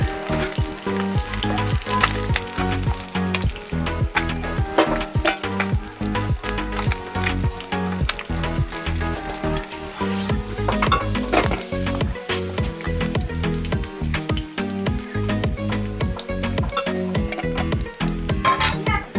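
Steady, loud sizzling and crackling of fish frying in oil, continuous throughout, close up with no voices.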